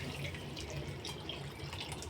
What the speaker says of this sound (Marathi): आता मध्ये थोडंसं पाणी टाकूया